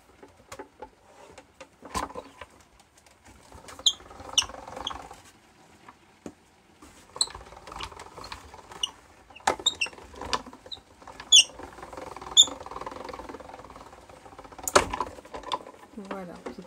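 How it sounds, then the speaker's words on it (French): A card-making embossing folder sits between two plates and is cranked through an embossing machine, giving quiet, irregular clicks, taps and creaking mechanical ratchets spread across the stretch. "je mets mon classeur d'embossage au centre entre les deux plaques. Comme ceci, et je passe dans la machine."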